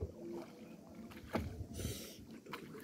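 Paddles stroke the water beside a boat on a river in Chitwan, with soft splashes and sloshing near the hull against a low outdoor background and faint voices.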